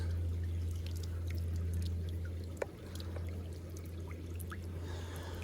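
Water pours from a pipe as an aquaponics fish tank is drained, giving a steady close trickling stream over a low pump hum, with one brief knock midway.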